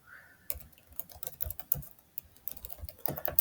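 Rapid, irregular key clicks from someone typing code on a computer keyboard, close and fairly quiet, with no other sounds.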